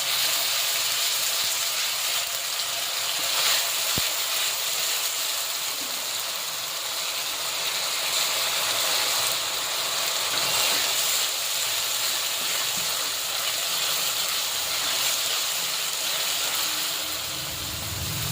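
Ginger, garlic and onion paste sizzles in a frying pan with a steady, close hiss and bubbling, with one sharp click partway through.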